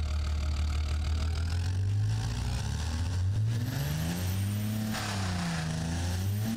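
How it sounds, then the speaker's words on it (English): A diesel twin-turbo Land Rover engine in BeamNG.drive revs up and down repeatedly, its low drone rising and falling in pitch over a steady rough rumble, loud and close throughout. "I just wanted to see what this engine sounds like, so here's a quick run through."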